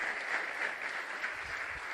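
Audience applause at a mining ministry event, a dense sustained patter of many hands clapping, steady and fairly loud throughout with no voices on top.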